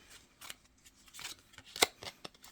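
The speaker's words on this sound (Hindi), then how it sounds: "अब मैं 2 कार्ड निकालूंगी एंजल के।" Angel cards drawn from a deck during a tarot-style reading: a few close, dry papery flicks and slides, with one sharper snap near the end, quiet and without talk.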